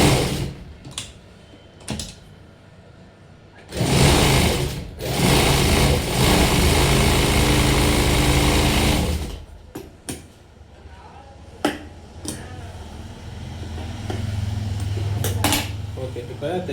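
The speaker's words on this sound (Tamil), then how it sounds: "இப்போ நம்ம அதை மடக்கி தைக்க போகிறோம்." A sewing machine stitching folded blouse fabric runs in bursts of steady mechanical whirring and clatter, with a long continuous run in the middle and shorter starts and stops around it.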